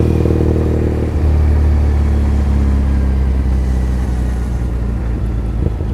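Motorcycle or scooter cruising through Tokyo streets, its engine a steady loud low drone close by with a shift in pitch early on and constant rumble throughout, no talking.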